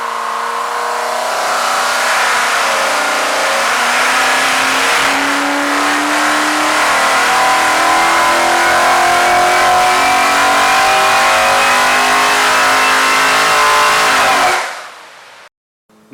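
A car engine on a dyno test with a Bills B dual mesh air filter fitted, revving loud and sustained for about fourteen seconds with rising and falling pitch, then cutting off abruptly.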